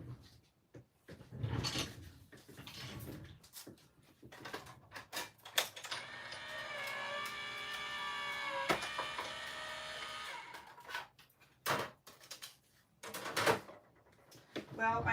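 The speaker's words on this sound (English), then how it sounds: "I'm going to tape that there and run this back through my machine." A paper crafting die-cut or embossing machine cranks a taped piece of cardstock through its rollers, giving a steady mechanical grinding hum of several seconds between sharp clicks and handling noises, with speech around it.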